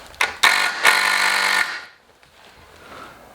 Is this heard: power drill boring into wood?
yes